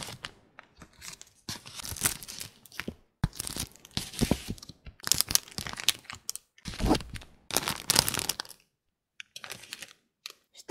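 Paper surprise packets are torn open and crinkled close to the microphone in quiet ASMR style, with repeated sharp ripping and rustling bursts separated by short pauses and no talking.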